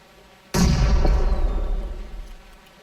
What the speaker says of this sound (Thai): ใครปาระเบิดมั้ง